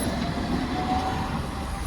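Trams roll along a city street in Kharkiv's Saltivka district on a morning, a steady loud rumble of wheels on rails with a faint wheel squeal, and no voices.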